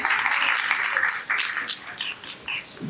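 Audience applause at an Urdu conference award ceremony in Karachi, a dense patter of many hands clapping at moderate loudness, sustained and fairly even throughout.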